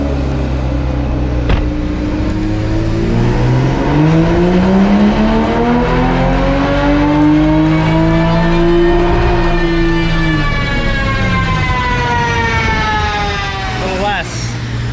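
A race-gas-fuelled car engine on a dyno revs in one long sweeping pull, its pitch climbing steadily then dropping off near the end, loud and close throughout with people talking underneath.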